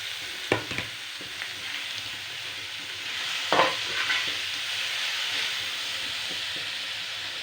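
Grated carrots with cinnamon and cardamom fry in a pan, a steady broadband sizzle with a few sharp stirring scrapes near the start and middle, no voices.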